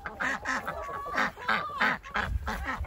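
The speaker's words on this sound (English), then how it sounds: "we've got three ducks, which I'm not a fan of" Three ducks quacking in a farmyard among chickens, a run of loud, close, repeated honking quacks that overlap in rapid bursts with no talk.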